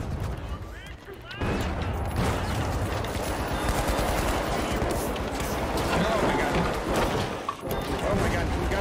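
Automated turrets firing nonstop inside a room in The Finals, a dense, loud chatter of gunfire over roughly eight seconds with excited voices talking over it.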